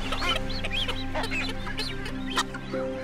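Migratory seabirds at a breeding site trade soft, clucking calls during a courtship display, several short overlapping notes close by over a low background hum.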